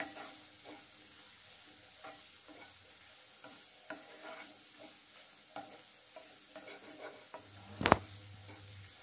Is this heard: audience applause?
no